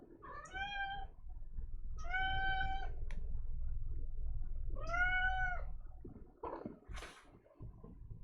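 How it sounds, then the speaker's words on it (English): A pet cat meows three times, clear and close, with drawn-out cries spaced a second or two apart over a low background hum, and a few faint shuffles afterward. "My cat is here."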